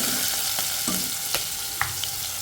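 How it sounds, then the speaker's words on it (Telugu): Onions fry in hot oil for a mixed vegetable curry, giving a loud, close, continuous sizzle with a few light stirring scrapes and taps and no voices. "ఉల్లిపాయలు వేసాను."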